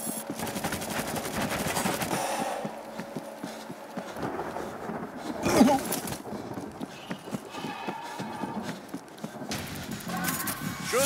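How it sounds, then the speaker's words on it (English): Machine gun firing in the World War Z Aftermath zombie video game, a continuous dense rattle of rapid gunfire with booming impacts, loud and sustained throughout with a sharp burst in the middle. "Machine gun in place."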